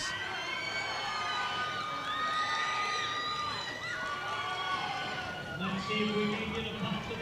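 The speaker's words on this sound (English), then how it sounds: "if you hear some people screaming and there's not some action going on" Distant spectators yell and scream at wrestling matches in a large echoing gym, shouts rising and falling over a continuous crowd murmur.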